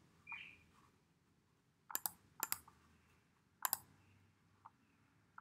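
Several crisp mouse clicks on a Mac, including a quick double click, sound close and quiet against a faint room hush.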